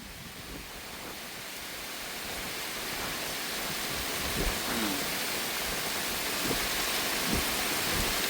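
Heavy rain falls steadily behind a house, a dense even hiss of downpour with a few faint knocks and drips standing out over the constant wash.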